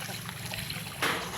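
Flowing river water at Tignoan Bridge in the Sierra Madre mountains gives a steady, close trickling wash. It swells into a louder splashy rush near the end.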